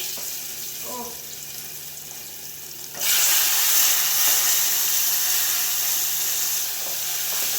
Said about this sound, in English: our oil is already heated, so we are going to transfer our meat to the oil